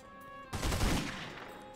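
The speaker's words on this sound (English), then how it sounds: "should have probably not shot him with a Magnum" A single loud Magnum pistol shot from The Godfather video game cracks out at about half a second, followed by a rumbling decay over steady background game ambience.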